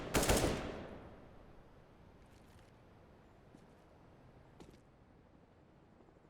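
Counter-Strike: Global Offensive gunfire sprayed through a door, opening with a loud close burst that decays into quiet, followed by a few faint, scattered distant shots.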